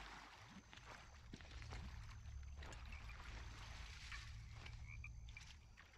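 Frogs croak in the ZombiU game world, a chorus of repeated rasping calls over a soft trickle of water, quiet and continuous with no voices.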